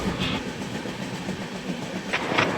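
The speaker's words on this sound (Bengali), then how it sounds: "এখন ট্রেন আমাদের যাচ্ছে উড়িষ্যা রাজ্যের মধ্যে দিয়ে যাচ্ছে।" Jnaneswari Express passenger train running through hilly Odisha in the early morning, heard from inside the coach as a steady rumble with rhythmic clickety-clack of wheels on rail joints and occasional brighter squeals, no talk.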